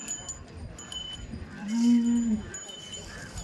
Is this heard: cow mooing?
yes